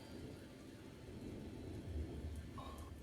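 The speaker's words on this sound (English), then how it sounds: "The rain comes down in sheets and forms the familiar little rivers along the pathway" Heavy rain pours in a steady, dense hiss while deep thunder rumbles low underneath, a continuous storm bed with no voices.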